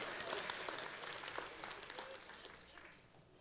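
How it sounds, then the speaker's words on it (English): A church congregation claps during a sermon, a soft, fairly distant wash of applause that slowly dies away over a few seconds. "And you got to clap if you're going to do it."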